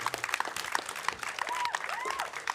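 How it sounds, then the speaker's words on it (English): Scattered clapping from a small group at a Super Smash Bros. Ultimate esports grand final, fairly faint, with bright whistle-like tones and chatter mixed in. "Give them a round of applause"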